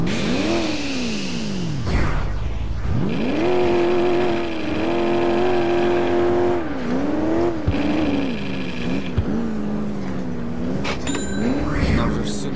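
Car driving in the video game Crash Time 2, engine revving loudly and rising and falling in pitch through repeated accelerations and gear changes, with brief thumps and a voice speaking over parts of it.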